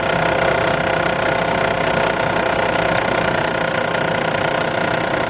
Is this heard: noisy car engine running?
yes